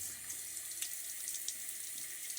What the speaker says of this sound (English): Splash a little bit of water on my face here